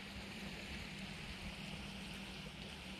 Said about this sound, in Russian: Вы слышите, как вообще река шумит? Это из-за того, что здесь такая небольшая плотина.